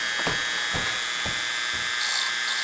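A small high-pitched rotary power tool whines steadily while grinding a bevel into the tip of a tri-wing screwdriver bit, with periodic lower scraping pulses as the metal is pressed against it.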